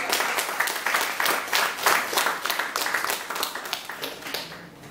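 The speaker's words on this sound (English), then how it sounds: "Please, a round of applause" Applause from an audience at a talk or presentation, a steady run of many hands clapping at moderate loudness, slowly thinning toward the end with no voices over it.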